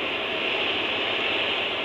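On its ocean setting, a Hatch Rest Go baby sound machine gives off a loud, constant roar of surf-like noise, smooth and unbroken at close range, with no voices over it.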